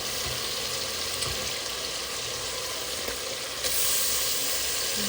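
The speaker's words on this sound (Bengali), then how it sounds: "মশলার ভিতর দিয়ে কষিয়ে নেব।" Fish frying in a pan of cooked-down spice paste gives a steady, dense sizzle, with a brief stirring scrape near the start and a slightly louder burst of hissing toward the end.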